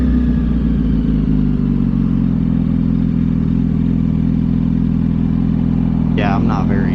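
A motorcycle engine drones low and loud throughout a night ride, with steady rumbling and a slight shift in pitch, and someone talks over it near the end.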